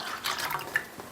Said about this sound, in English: I just want to get my milk poured in here first